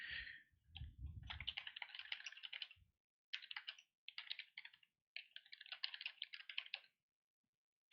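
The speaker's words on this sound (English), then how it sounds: "I'll stop typing that then." Quick bursts of typing on a computer keyboard, close and clear, with rapid clicky keystrokes in uneven runs separated by short pauses in an otherwise quiet room.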